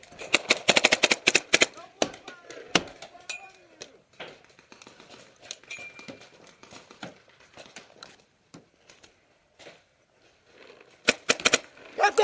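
Paintball markers crack in rapid strings of shots on an outdoor Hollywood Sports paintball field. Dense bursts come at the start and end, with scattered single pops and distant firing between them.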